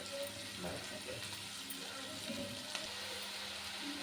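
Garlic and curry leaves crackle and sizzle in hot oil in a home kitchen, a soft steady frying hiss with faint pops, with someone talking over it.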